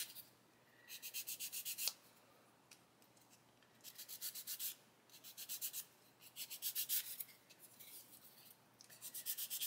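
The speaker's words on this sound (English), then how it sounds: "with a nice coarse sanding stick, we can come along and just sand all that detail away" Close, quiet bursts of abrasive scratching as plastic detail on a 1/48 Lancaster scale model kit is sanded with a coarse sanding stick, back-and-forth strokes in several separate runs with short pauses between.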